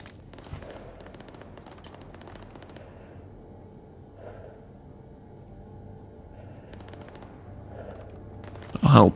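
Distant gunfire in the video game STALKER GAMMA: scattered bursts of shots crackle faintly in the background, with a louder burst near the end.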